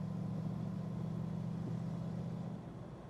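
A 1961 Corvette's engine drones steadily while driving, a loud, even low rumble with constant road and wind noise that eases slightly near the end.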